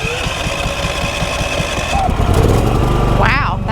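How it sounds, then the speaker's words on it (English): A portable generator with push-button start fires up and runs with a loud, rhythmic engine chug that grows rougher and louder as it settles, ending with a brief voice. "So to start, just hit the battery switch on, make sure the gas is on, and you just hit it twice."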